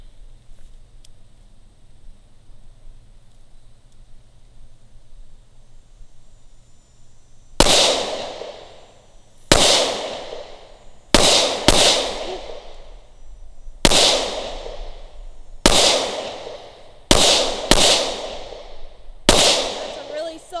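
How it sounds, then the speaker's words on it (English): Nine loud, sharp gunshots from a Ruger SR1911 10mm pistol ring out close by at uneven intervals of one to two seconds, each with a ringing decay. Quiet background hum comes before the first shot. "Who says chicks can't shoot the 10mm?"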